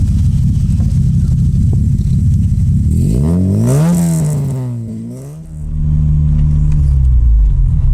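A restored Opel Kadett engine idles steadily, then revs up sharply in a rising climb, drops back, and revs again before settling to a loud idle, close and alone with no talk.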